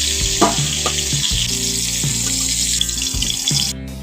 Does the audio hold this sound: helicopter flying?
no